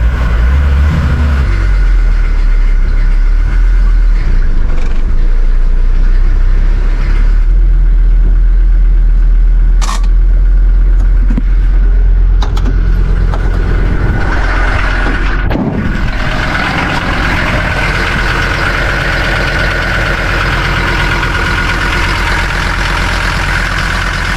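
Mercedes T1 409D van with an OM617 diesel engine idling close by, a steady low rumble with a few clanks and knocks layered over it.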